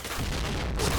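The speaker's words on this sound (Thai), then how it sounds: "ระเบิด" A dense burst of explosion noise in the video game Point Blank, booming and crackling continuously with heavy low rumble throughout the short moment.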